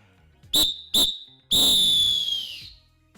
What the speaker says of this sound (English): I'm going to do a simple full-time whistle on my Fox 40 Classic